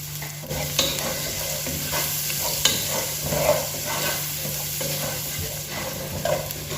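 Masala seasoned with salt and turmeric fries in a pan for sardine pulimunchi, sizzling steadily and up close as a spoon stirs and scrapes now and then.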